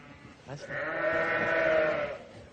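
A single long, wavering sheep bleat rises close by and holds for well over a second, preceded by a brief shorter call.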